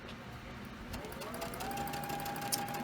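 A sewing machine stitches in a quiet, continuous whir, faint and steady, without any speech.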